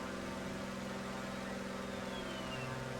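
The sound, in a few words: landing gear moving on Grumman Goose G21A in flight simulator game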